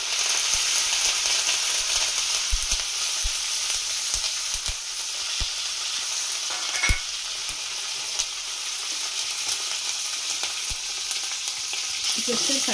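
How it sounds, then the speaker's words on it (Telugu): Dry red chillies and curry leaves frying in hot oil for a fenugreek chutney, giving a steady loud sizzle with occasional crackles and pops throughout, no talking. "ఇప్పుడు ఎండుమిరపకాయలు వేసుకున్నాం ఒక 5-6."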